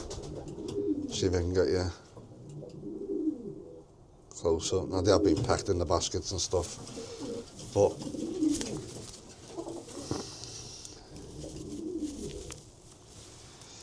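Racing pigeons coo softly and repeatedly close by while a person talks over them, with some rustling and handling noise.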